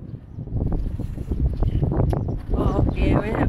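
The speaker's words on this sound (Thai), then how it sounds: "ลมแรงเหลือเกิน" Strong gusting wind buffets the microphone on a street in Rouen, France, a loud continuous rumble with bursts throughout while people talk over it.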